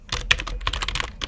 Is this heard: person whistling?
no